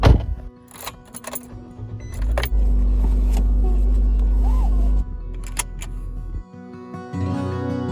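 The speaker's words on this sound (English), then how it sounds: "She got in her car and started off towards the first location on the map." A car door thunks shut, keys jangle, then the engine starts and holds a loud steady idle before easing off and pulling away, with a few more clunks near the end.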